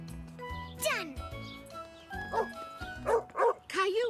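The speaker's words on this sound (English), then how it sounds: "The dog sounded angry." Cartoon dog barking angrily in a children's animated story, several sharp barks and yips at the end after tinkling music, with voices and music around it.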